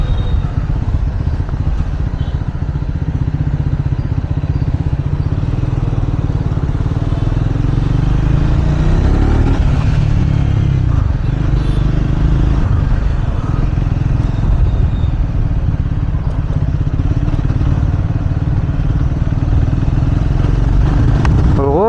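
A Triumph Scrambler 400 X motorcycle engine drones loud and steady while riding, with the pitch rising as it accelerates through the gears and wind rush and rattle layered over it.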